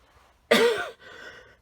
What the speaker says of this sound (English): I do have this leftover cough from a cold